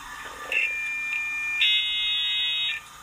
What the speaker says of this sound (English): That's a modem.